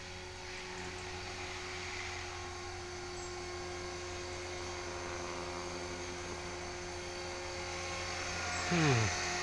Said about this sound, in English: Not the slightest bit bothered about the helicopter though.